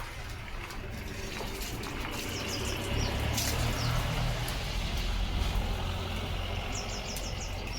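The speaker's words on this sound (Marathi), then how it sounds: "लियो लिओ पाईपासोबत पाणी" Water gushes steadily from a garden pipe outdoors during Rangpanchami, a continuous rushing hiss that swells slightly midway, with faint high chirps above it.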